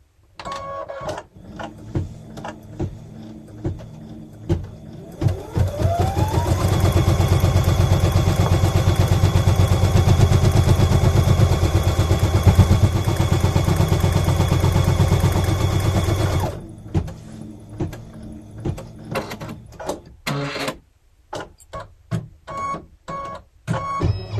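An embroidery sewing machine stitching an appliqué clover hot pad runs steadily for about ten seconds in a loud, even mechanical whir. Short clicks and taps come before and after.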